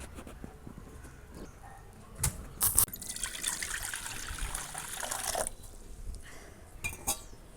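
Water trickles and swishes in a pot at close range as lentils are washed, with occasional clinks of a utensil against metal.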